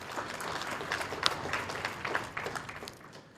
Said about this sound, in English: Another round of applause for the DG